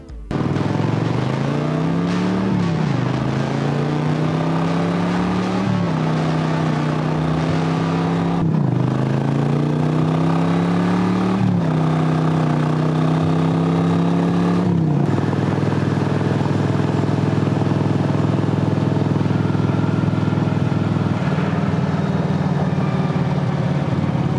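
A Kawasaki Vulcan motorcycle engine pulls hard under rolled-on throttle, its loud rising drone climbing through several gears with brief dips at each shift before settling into a steady high-speed roar.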